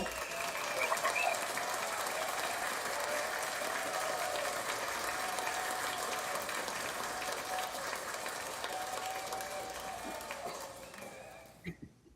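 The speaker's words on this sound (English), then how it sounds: "Round of applause to them." Sustained audience applause at a rap battle podcast event, with clapping and some cheering, steady for several seconds before fading out at the end.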